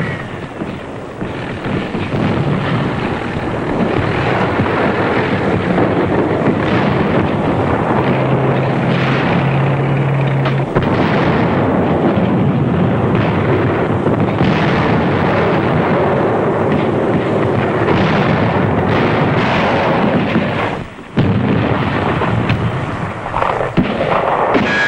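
WWII battle in the Marshall Islands, 1944: a dense, continuous barrage of explosions and artillery fire, loud and rumbling throughout, with a brief drop in intensity near the end.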